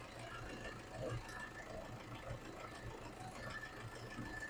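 A 2014 Toyota Hilux double-cab 4x4 diesel pickup idles at a showroom, giving a quiet, steady low rumble that runs without a break under a man's speech.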